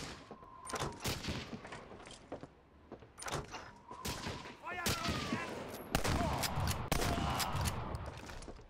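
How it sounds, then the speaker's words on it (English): Gunfire in the World War II shooter Medal of Honor: Allied Assault Spearhead, several sharp cracks and bursts scattered irregularly, fairly loud and close, mixed with clattering impacts and game ambience, with some speech. "I hear a gunshot."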